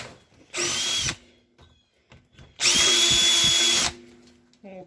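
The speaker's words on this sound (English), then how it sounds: "Now we'll take this drill and auger out a hole for us." A power drill whirs in two bursts, a short one and then a longer steady run, boring a hole while installing a fuel pressure gauge on an Oldsmobile Cutlass Supreme, loud and close, with quiet pauses between.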